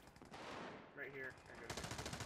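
Gunfire rings out from a window in a rapid burst of shots at the end, following a stretch of muffled, noisy background, faint overall.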